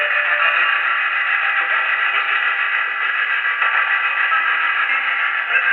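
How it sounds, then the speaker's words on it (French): A steady, dense wash of reverberant sound with a washed-out echoing tail, like an amplifier run through a reverb chamber, loud and continuous with no talking. "on a une chambre de réverbération."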